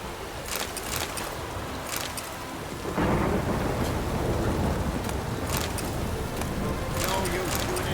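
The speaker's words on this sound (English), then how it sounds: "No use doing any work in this rain." Steady heavy rain with rumbling thunder in a stormy Witcher 3 game scene, continuous hiss growing louder midway, with occasional sharp cracks and brief voice bits over it.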